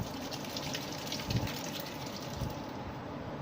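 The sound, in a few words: boiled chickpeas poured in with their cooking water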